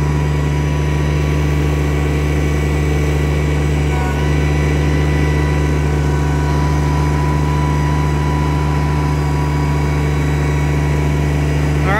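A digging machine's engine runs steadily while it cuts a trench for a 500-gallon propane tank, a loud, constant low drone with a steady hum throughout.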